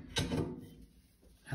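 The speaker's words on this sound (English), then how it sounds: "quickly close the door" The door of a wood-burning stove is shut by hand, a single close, soft thud with a short scrape, then quiet.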